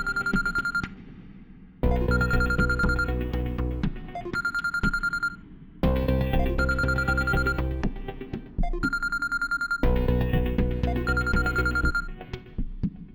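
A phone rings while someone calls Sonu, with a loud electronic ringtone repeating in bursts with short gaps over about thirteen seconds and no voices.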